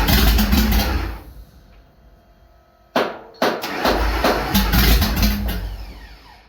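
An engine roars loudly under applied throttle, drops to a quieter idle, then surges back abruptly after a sharp knock and holds a strong rev before easing off.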